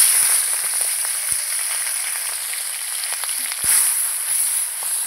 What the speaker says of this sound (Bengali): এই যে ইলিশ মাছের মাথাটা আমি ভেজে নেব।